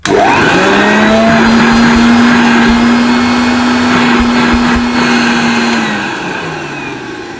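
A vintage Hoover Junior 1334A upright vacuum cleaner starts up and runs with a loud, steady motor whine close by, then winds down and fades over the final seconds.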